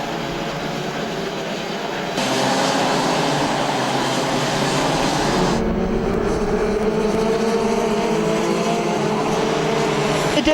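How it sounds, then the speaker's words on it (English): Rotax DD2 racing karts in a Grand Finals race roar past, a sustained loud engine drone that swells and shifts as the karts run nearly bumper to bumper, with commentary faintly mixed underneath. "Calco in the 363 kart, almost bumper to bumper with the American"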